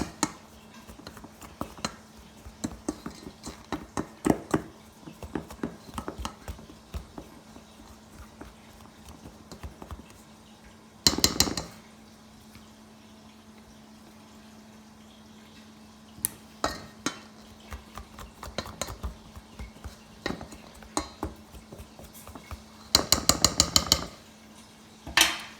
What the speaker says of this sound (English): You're just mixing it up real good, kind of chopping as you go.